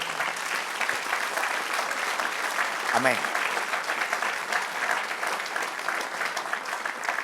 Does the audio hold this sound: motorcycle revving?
no